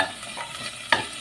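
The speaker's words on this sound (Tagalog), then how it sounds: "Tapos ilagay mo agad yung meat." Marinated meat hits a hot pan with a soft continuous sizzle and a sharp utensil scrape near the end, brief and fairly quiet, with no voices.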